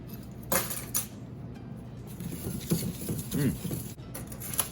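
Dry spices for a rib rub, including ginger, sugar and paprika, are stirred in a bowl, giving light irregular patters, taps and small clinks at close range.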